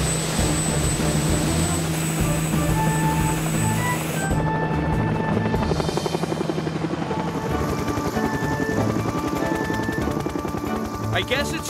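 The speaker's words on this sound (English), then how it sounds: "Not if you go by helicopter." A loud cartoon helicopter drones continuously with a thumping rotor pulse, filling the whole stretch without pause.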